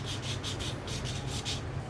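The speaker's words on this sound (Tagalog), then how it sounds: "Next, lihain lang natin to ng kaunti. Itong pin. Yung pinong liha." Soft, rhythmic rasping strokes of fine sandpaper rubbing back and forth on a metal footrest pin from a Yamaha Sniper 150 motorcycle, about seven passes, close and quiet.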